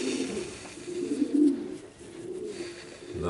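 A racing pigeon gives low, soft cooing murmurs while held in the hand, a few close, faint rumbling coos with brief breaks, and no talking.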